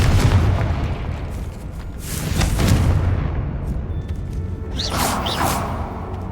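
Confringo blasting spells exploding in the video game Hogwarts Legacy inside the catacombs, booming rumbling blasts with whooshing swells and crackling debris, loud and close, with no talking.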